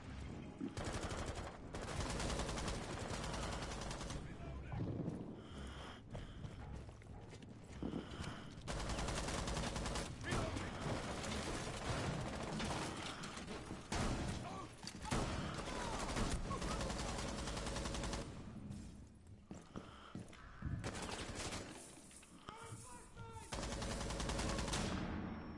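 Gunfire in Rainbow Six battles crackles almost nonstop, rapid automatic bursts and single shots in dense volleys with brief lulls, loud and close, captured at low overall level.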